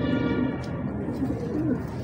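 Fancy flying pigeons of a Pakistani breed coo softly in a low, steady burbling chorus close by, with no voices over them.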